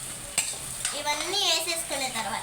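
Upma ingredients fry and get stirred in a pan, a close scrape and clink of a spoon over a steady sizzle while someone talks throughout.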